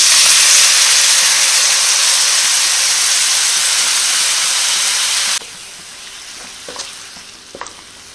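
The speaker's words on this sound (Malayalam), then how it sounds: "ഇനി കുറച്ച് വെള്ളം ഒഴിച്ച് കൊടുക്കാം ഗ്രേവിക്ക് വേണ്ടി" Water poured into a hot pan of egg roast masala with chilli, coriander and meat masala powders erupts in a loud, steady steaming hiss and sizzle that abruptly drops to a quieter simmer with a few small clinks near the end.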